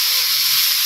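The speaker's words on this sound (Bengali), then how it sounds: "পেঁয়াজ বাটা কাঁচামরিচ বাটা আর হলুদ লবণ মরিচের গুঁড়া এটা কষা নিতেছি" A steady, loud hiss and sizzle from onion paste, green chili paste, turmeric, salt and chili powder frying in a pan, close and continuous with no talking.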